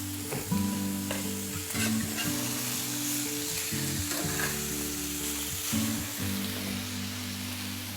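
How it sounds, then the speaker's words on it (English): Steak sizzles loudly and steadily in a hot pan right after being flipped, a dense crackling fry that runs the whole time with some faint clinks, close and without any voices. "Turn the steak over."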